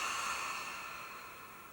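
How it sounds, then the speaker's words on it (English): A slow, close exhale during a yoga breathing exercise makes an airy hiss that starts strong and gradually fades. "And then breathing out."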